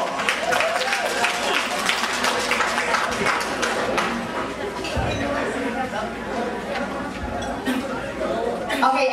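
A crowd at a high school grand alumni reunion applauds amid loud chatter, with continuous mixed clapping and voices filling the room throughout.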